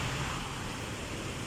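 Rain and wind sweep through Abu Dhabi in a steady, fairly faint broadband wash of rushing noise, even and continuous with no distinct drops or voices.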